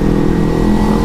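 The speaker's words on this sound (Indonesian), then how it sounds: "ini knalpot peluit cuk" Kawasaki Z250 motorcycle with a whistle exhaust, revving at close range in a loud, steady run with a droning, tonal engine note.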